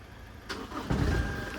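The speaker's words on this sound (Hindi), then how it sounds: "भाई हाफ सेल्फ स्टार्ट हो रही है" Toyota Legender with a 1GD diesel engine starting with its turbo and intercooler pipes disconnected, a short crank that catches into a loud, close, rough running roar.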